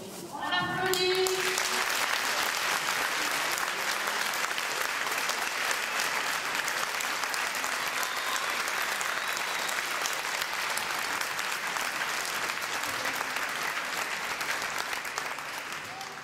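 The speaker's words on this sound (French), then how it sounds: "On applaudit." A crowd applauds steadily and loudly at the eleventh Mémorial Charles et Adèle Moret, dense sustained clapping running almost the full length after a brief voice at the start.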